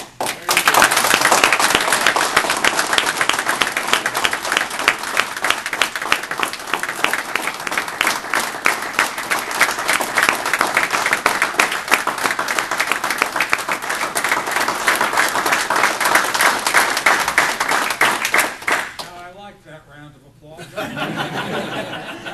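A crowd at a political speech by a senator in the Lehigh Valley breaks into loud sustained applause with some laughter mixed in. The clapping runs strong for most of the stretch, then cuts off and a voice begins speaking near the end.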